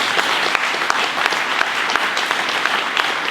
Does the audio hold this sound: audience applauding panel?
yes